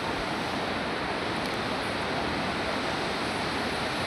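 Neora River water flows steadily through forest, a continuous broadband rush with no breaks, close and fairly loud, with no voices over it.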